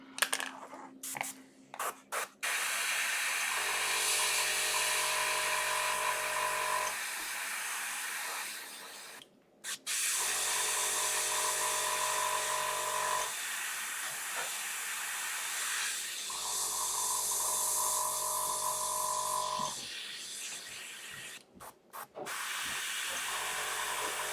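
An airbrush sprays paint onto Warhammer Warcry miniatures in long, steady hissing bursts. Each burst is broken by brief pauses and short stuttering puffs at the start and end, and the sound stays close with nothing else over it.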